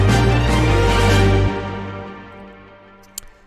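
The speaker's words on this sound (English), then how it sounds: "So that is what plays if you win the battle." A short video game battle victory ending theme: a sustained musical chord that swells, then cuts off partway through and fades out into a faint decaying tail with a small blip near the end.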